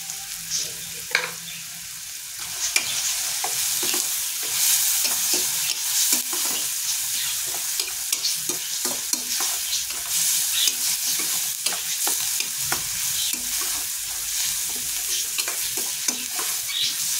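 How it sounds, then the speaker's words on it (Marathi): Onions frying in a pan with turmeric for egg bhurji, stirred steadily: a continuous bright sizzle and crackle with frequent spoon scrapes and clicks throughout, close and fairly loud, no talk. "आता कांदा आपला भाजत आलेला आहे. त्यात आपण थोडी हळद टाकूया."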